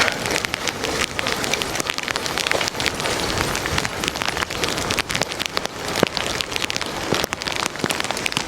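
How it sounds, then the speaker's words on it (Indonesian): Heavy rain pours down close by in a Japanese village, a loud dense roar with sharp crackling drop impacts spattering constantly on a hard surface. "Hujan."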